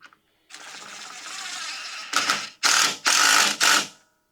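A ratchet tightens a brake-hose bracket bolt on a 1999 Ford Ranger during front brake work: a long stretch of rapid clicking, then several loud, close bursts of ratcheting separated by short pauses.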